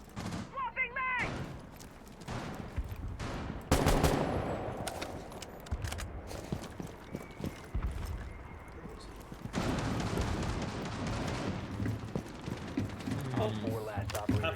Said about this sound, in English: Swapping mag!